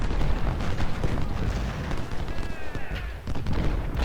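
Civil War-era 10-pounder cannons fire in the game Ultimate General: Civil War, a dense, continuous rumble of loud booms and battle noise with no pause, close and heavy throughout.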